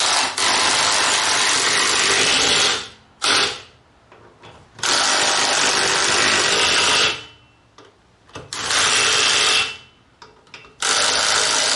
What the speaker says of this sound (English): I'm going to tighten these with my battery powered impact wrench.